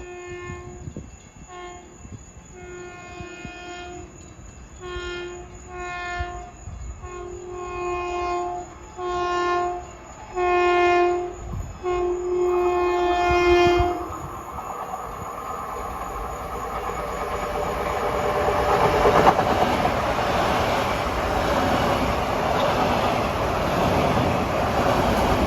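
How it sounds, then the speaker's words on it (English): Long Island Rail Road MU train rushing past Farmingdale station in evening rush hour, opening with a series of loud horn blasts, then a steady rumbling roar with rail clatter that builds as the cars go by. "This is probably the fastest train on the route, making the fewest stops like the old rocket did."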